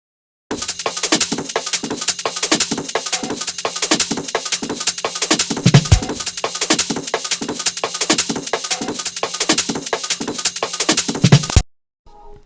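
A busy, steady drum loop of crisp snare hits and rapid, dense hi-hats with layered percussion, playing alone before stopping abruptly.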